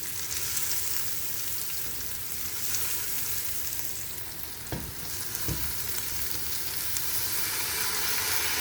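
Rice frying in ghee in a pan over a low flame gives a steady, close sizzle throughout, with two brief stirring scrapes near the middle.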